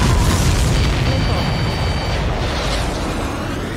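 Missile explosions in the Ace Combat 7 video game during a strike on an air defense network, a dense continuous wash of loud booming blasts and rumble with a high whine running through it.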